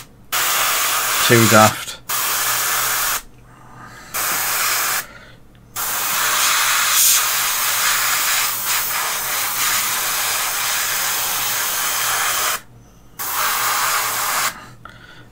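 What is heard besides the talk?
spray gun spraying primer onto miniatures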